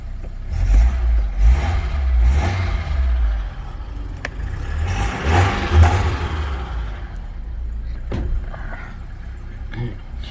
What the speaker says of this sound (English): So if the engine runs a little shaky, it's because it's still cold.